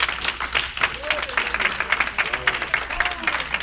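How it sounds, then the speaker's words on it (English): A church congregation clapping in praise at a Bible study, a dense rhythmic patter of many hands close by, with voices calling out over it. "clap your hands and give God praise"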